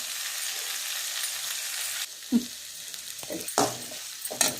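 Cooked rice being stirred into chicken and egg fried rice in a hot pan, a continuous sizzle with a few scraping spatula strokes near the end.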